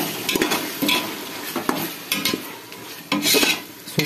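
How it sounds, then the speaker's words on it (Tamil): Masala for chicken biryani fries over low heat in a pan while a metal spoon stirs it, giving a soft steady sizzle broken by irregular scraping and clinking strokes, close up and alone. "இதை சிம்மில் வச்சுருக்கீங்க மசாலா போடும்போது."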